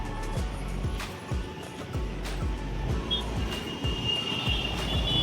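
A metro train passes through Subhash Nagar metro station with a steady, rhythmic clatter of wheels over rail joints, close and fairly loud, and a thin high squeal creeping in toward the end.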